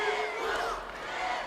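A live boxing match crowd roars in a steady, far-off wash of cheering and yelling, with faint commentary voices underneath.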